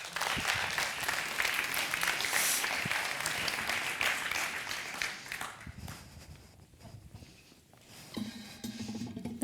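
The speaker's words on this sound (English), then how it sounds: "Please an applause for the third pitcher in the category Society" Audience applause at a science and innovation award ceremony welcoming a pitcher in the Society category to the stage, dense clapping for about six seconds before thinning into scattered claps and room noise.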